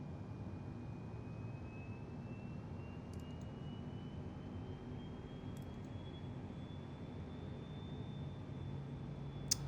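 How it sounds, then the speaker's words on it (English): Boeing 717-200 engines spooling up in Microsoft Flight Simulator, a steady low rumble with a slowly rising whine that holds throughout, with no voices. "Plane is starting up."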